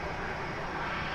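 Spirit Airlines Airbus A321 jet at DFW Airport, heard as a steady broadband roar of engines spooling up for departure, continuous and fairly distant with no voices.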